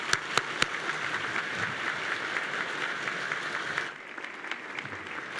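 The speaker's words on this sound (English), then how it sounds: "let's give all the staffs a round of applause" Sustained audience applause fills a State of the City 2019 gathering, steady and dense, with a few sharp claps up front, then thinning slightly toward the end.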